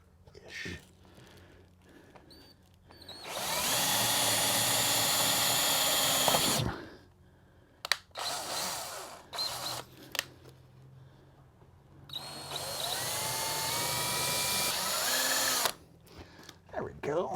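Power drill boring through a camper roof in two long, loud bursts of steady whine, separated by quieter handling clatter and brief knocks, with a few short sounds between.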